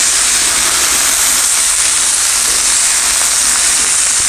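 Vegetables for Chinese restaurant-style pepper steak stir-frying over the highest heat, giving a loud, steady, dense hiss that stays close and unbroken throughout.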